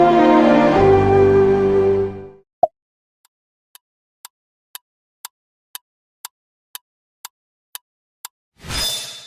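MasterCard's payment sound logo: a short, bright, layered musical chime lasting about two seconds. A click follows, then a slow series of faint, evenly spaced ticks, and a burst of sound at the end.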